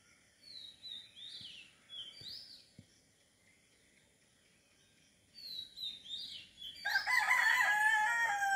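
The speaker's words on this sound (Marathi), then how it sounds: "कोंबड्याचा पण आवाज." Near the Mahalakshmi temple at Dahanu, a rooster crows several times at intervals in the quiet village morning, with small birds chirping and a louder burst of calls at the end.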